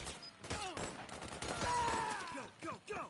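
Rapid gunfire bursts from the Metal Gear Solid 4 video game, loud, dense and continuous, overlapping repeated shots with game sounds layered over them across the whole stretch.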